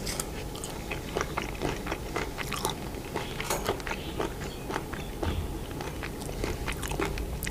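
Someone bites and chews crunchy fried giant water bugs full of eggs, with dense, close, crisp crackling crunches repeating steadily throughout and no talking.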